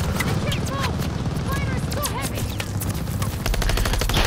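Rapid gunfire from the video game Call of Duty, shots punching through a wall in dense repeated bursts, loud and close, with automatic fire dominating throughout and voices mixed in.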